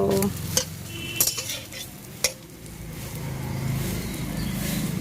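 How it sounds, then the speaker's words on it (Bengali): Steady sizzling of eggs frying in a pan, with a few sharp clinks and scrapes of a utensil early on, then a continuous hiss building toward the end. "এখন হচ্ছে ডিম ভাজা"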